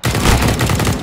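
Rapid automatic gunfire in Counter-Strike on the Overpass map, a loud burst of close, rattling shots packed tightly together for about a second.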